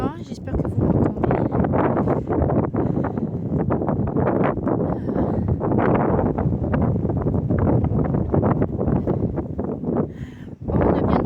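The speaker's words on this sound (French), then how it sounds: "Excusez-moi pour le vent, j'espère que vous m'entendez." Heavy wind buffets the microphone in loud, continuous rumbling gusts while a person speaks underneath.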